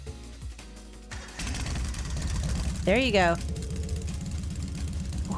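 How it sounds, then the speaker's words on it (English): A motorbike engine in the video game Trails of Cold Steel starts with a rising rumble, then settles into a steady, pulsing idle, with short speech over it and a brief chirping sound partway through. "First is starting up the engine."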